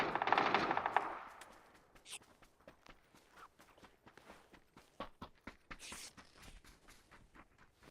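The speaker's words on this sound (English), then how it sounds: "Madrev goes for a couple of shots." Gunfire in a PUBG pro league match, a burst of shots at the start followed by scattered sharp reports and footsteps, mostly faint and fairly distant.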